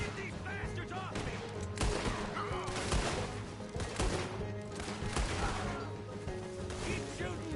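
Rapid gunfire in a Red Dead Redemption II shootout crackles in dense, overlapping bursts of sharp shots, with fairly constant intensity and loud peaks scattered across the clip, backed by a low steady game soundtrack.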